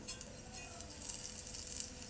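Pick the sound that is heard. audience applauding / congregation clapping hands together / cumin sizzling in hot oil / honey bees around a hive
cumin sizzling in hot oil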